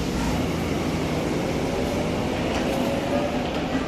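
A loud, heavy low rumble of a Keihan Railway train motor droning steadily, with a broad mechanical roar and no voices.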